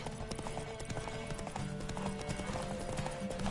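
Horse hooves clip-clop in a quick, steady rhythm in the video game The Witcher 3, fairly close and clear, with faint background ambience.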